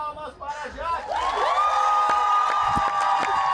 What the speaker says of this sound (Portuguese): Palmas para Murilo!